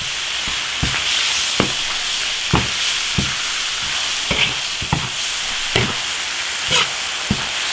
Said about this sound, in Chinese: 下入鸭舌， 就这样把它炒熟就行了。